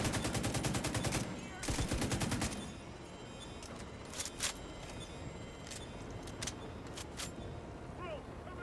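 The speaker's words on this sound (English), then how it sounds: "Who was firing at my turret?" Gunfire in The Division 2 aimed at a deployed turret: rapid automatic bursts in the opening seconds, then sparser single cracks and short volleys at a moderate distance over a steady background din.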